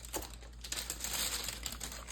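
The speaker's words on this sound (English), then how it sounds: "I'm going to cut the top of it to take this out." Kitchen scissors snip and crinkle through the plastic top of a package, giving a short run of close, dry crackling and cutting sounds with no talk.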